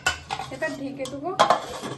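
A lid is set down on a pot of yogurt chicken simmering in water, giving a couple of sharp metallic clatters and scrapes, close and fairly loud.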